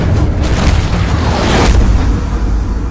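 In a video game action trailer, an explosion roars as a loud, continuous broadband boom with heavy low rumble, swelling slightly before easing off.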